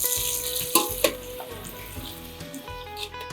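A Himachali sweet-and-sour pumpkin curry sizzles and bubbles in a pan, a soft continuous frying hiss broken by a few sharp clicks and stirring knocks.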